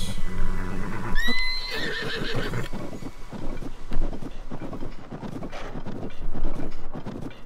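Horse neighing in the video game Tears of the Kingdom: a loud whinny with rising, wavering pitch near the start, followed by a rustling, windy outdoor game ambience with soft thumps and scattered movement sounds.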